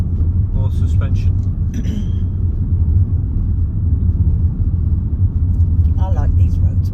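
Steady low engine and tyre rumble from a big black car driving a rural road between Bala and Lake Vyrnwy in North Wales, constant and close, with people talking over it.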